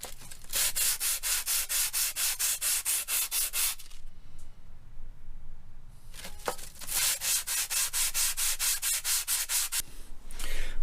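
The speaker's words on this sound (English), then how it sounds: "I've got here is a little bit of 320 grit sandpaper on a flat bit of steel, and I'm just going to give it a little rub over" A brake pad is rubbed back and forth on 320 grit sandpaper laid on flat steel, giving rhythmic, evenly spaced scraping strokes in two close, loud runs separated by a brief pause.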